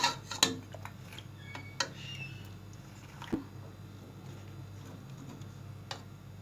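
A spoon stirring garam masala into beef nihari in a pot, giving sparse metallic clinks and taps against the pot's side, a few sharper knocks early and then quieter scraping, close and without speech.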